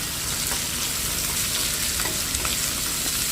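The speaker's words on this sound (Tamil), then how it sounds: "இப்போ இந்த வெங்காயம் பூண்டை நல்லா வதக்கி விட்டுக்கலாம்" Chopped onion and garlic sauté in a pan for a Tamil garlic kulambu, producing a dense, close sizzle with light stirring clicks that runs unbroken and alone for a few seconds.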